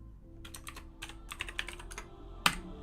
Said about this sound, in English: I'm going to type in the sprint ID in here